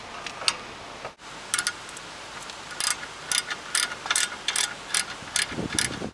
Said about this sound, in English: Go ahead and remove the 16 millimeter hex head bolt holding the caliper to the steering knuckle.